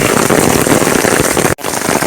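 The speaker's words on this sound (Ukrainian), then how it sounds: "Град просто як горох." Hail the size of peas falls during a thunderstorm on Mount Hoverla, a dense, loud, continuous rattling patter close by with a brief dropout near the end.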